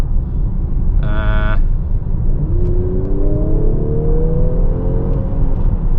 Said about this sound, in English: that was kind of a kick down